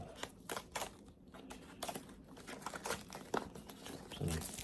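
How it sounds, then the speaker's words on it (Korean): Paper packaging around a pair of Shokz OpenDots One open-ear headphones is torn and crinkled open by hand during an unboxing, with continuous close rustling and ripping bursts throughout. "종이를 뜯고"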